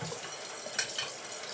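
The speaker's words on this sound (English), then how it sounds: "step one is we're gonna wash our hands" A kitchen tap runs steadily while hands are washed with soap before making pizza from scratch, a soft continuous hiss of water with a brief splash partway through.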